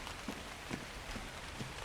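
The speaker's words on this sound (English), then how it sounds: "Not only rain in the cave, but coming into a cave with an Equus." Rain inside a cave in ARK, a faint soft patter with light drips at a few evenly spaced moments against a quiet hiss.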